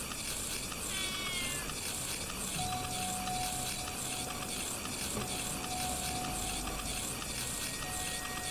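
Cats meowing in a horror video game, the cries faint and intermittent over a dense, steady layer of eerie ambient noise with a sustained tone running beneath.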